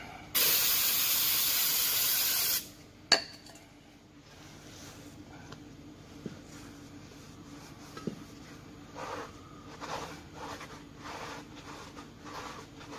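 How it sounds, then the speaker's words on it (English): Brake cleaner sprays onto a wheel hub during a hydraulic brake service on a school bus, a loud, steady hiss of about two seconds up close, followed by a sharp clank and quieter shop noise. "I'll also go ahead and use the brake cleaner on the spindle that I just prepped"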